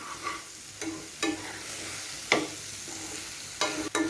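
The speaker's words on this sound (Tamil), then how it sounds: "எண்ணெயிலே நல்லா இது ஃப்ரை ஆகி வரணும்" Elephant foot yam pieces frying in oil with masala for a yam fry, a soft steady sizzle broken by several sharp spatula scrapes and stirs against the pan, close and quiet.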